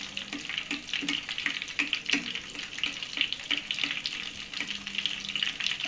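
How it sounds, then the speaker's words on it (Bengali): Apple jalebi frying in oil while oil is spooned over the top, producing a busy close sizzle with soft rhythmic scraping and sloshing of the spoon, steady throughout. "এইভাবে জিলিপিটা ভেজে নিচ্ছি"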